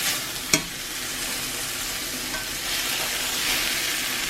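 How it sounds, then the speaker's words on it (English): A small pat of butter sizzles in a cast iron skillet as it warms for steak tacos, a steady soft hiss broken by one sharp click near the start. "Got my skillet starting to warm up. I just have a tiny bit of butter in there."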